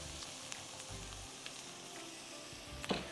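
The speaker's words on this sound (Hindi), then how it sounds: "प्याज को अच्छी तरह आपने ब्राउन करना है, घी में या मक्खन में, तेल में," Onions browning in ghee, butter or oil give a soft, steady sizzle and frying crackle throughout, faint and continuous with a brief stir or clink near the end.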